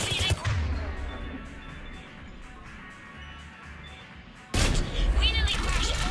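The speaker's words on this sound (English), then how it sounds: "Just following the gunfire." Gunfire during a firefight in Mass Effect 3, with sharp bursts early on, a quieter stretch of distant rumbling, then a loud burst of shots and crashing returning near the end.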